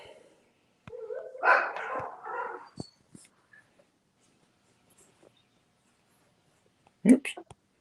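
A dog barks a few times at moderate distance, with a closer sharp bark burst near the end and quiet gaps between.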